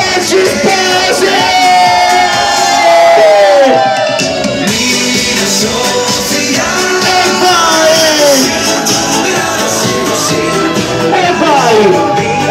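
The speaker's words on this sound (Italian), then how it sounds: "Accogliamo con un grandissimo applauso Gabriele ed Emanuele Oggi Spasi!" A wedding crowd greets the newlyweds, Gabriele and Emanuele, at a reception at Parco Archea Ferretti Village with loud, sustained cheering, whoops and yells. Shouting voices ride over a dense wall of crowd noise for the whole stretch.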